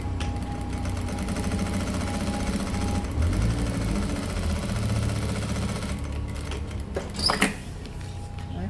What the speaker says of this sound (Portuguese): Aqui eu já vou passar uma costura também, prendendo já o forro aqui na lateral.